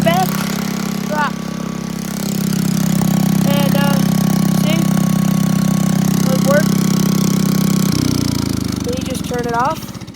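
A small homemade tractor contraption's engine runs with a loud, steady low drone close by, rising slightly then dropping in tone near the end, while someone talks over it intermittently.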